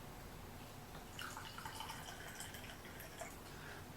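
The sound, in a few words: warm water poured into a container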